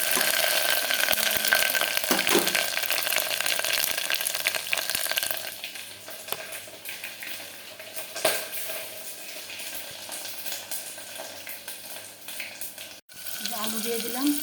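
Potatoes fry with turmeric and salt in hot oil inside a pressure cooker, giving a steady close sizzle that starts loud and eases slightly, with occasional scraping stirs and someone talking briefly.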